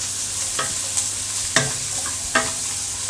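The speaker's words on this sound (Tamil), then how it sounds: "இப்போ நம்ம வெங்காயத்தை போட்டுக்கலாம்." Onions frying in a pan for prawn masala gravy, a steady sizzle broken by four or five sharp scraping strokes of a spoon stirring them.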